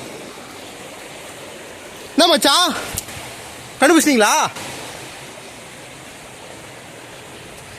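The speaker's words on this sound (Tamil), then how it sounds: "அங்கங்கே தண்ணி வந்துன்னு இருக்குது." Water runs steadily over rocks near the Magic Water Falls at TP Kota, a constant broadband rush under two brief bursts of speech.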